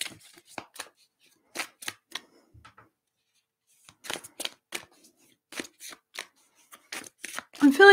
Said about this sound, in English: Either I'm really bad at shuffling tonight or the guides are pushing these cards around.